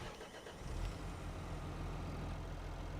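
A Same tractor's engine in Farming Simulator 25 drones with a steady, low rumbling hum, continuous and moderately quiet with no talking.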